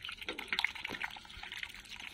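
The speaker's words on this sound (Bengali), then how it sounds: "সবগুলো হাঁস একসাথেই পানি খাচ্ছে" A group of ducks drinking water together, giving quick, faint dabbling splashes and dripping sips in an irregular patter.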